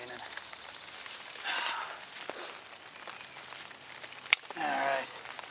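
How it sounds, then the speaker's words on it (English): Light outdoor rain pattering and dripping on surfaces around a wet campsite, faint and uneven, with occasional rustles and a sharp click. "Oh yeah, now we're raining."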